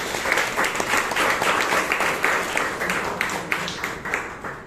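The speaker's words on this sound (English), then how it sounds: "Please give a big round of applause to Toastmasters." Applause from the audience at a Bangalore Toastmasters meeting, a dense steady patter of many hands that holds its strength for the whole stretch, with no voices over it.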